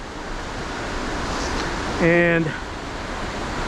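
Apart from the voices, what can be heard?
white water rapids of the Youghiogheny River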